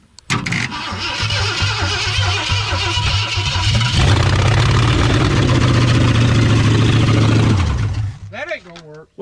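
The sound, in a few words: 1963.5 Ford Galaxie 500 engine starting first time in 30 years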